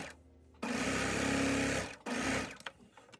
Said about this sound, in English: I'm gonna sew like a little banana shaped dart